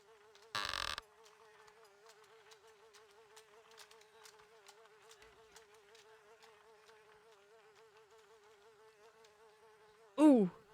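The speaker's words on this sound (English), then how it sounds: "Also, why is this fly buzzing?" A fly buzzes continuously in the video game Dracula 2: The Last Sanctuary, a thin wavering drone that persists for seconds at moderate level, broken by a short noise burst early and a sharp sweep at the end.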